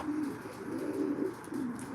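Racing pigeons coo steadily at a loft, a soft, continuous murmuring of several birds with low rolling calls overlapping throughout.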